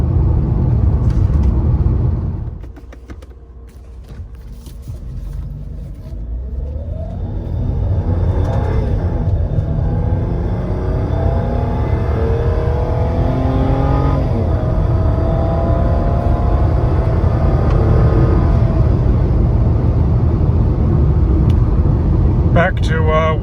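A Mercedes W124 accelerates hard after its run-in period, the engine rumble dipping briefly then surging into a long, loud, rising pull heard from inside the car, with some speech over the roar.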